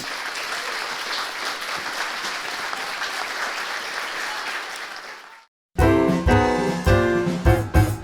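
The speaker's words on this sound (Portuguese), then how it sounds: "Então, eu queria uma salva de palmas." Applause for Professor Carlos Egídio Alonso at a university anniversary event, a dense steady clapping crowd for about five seconds that fades out, then cuts abruptly to loud music.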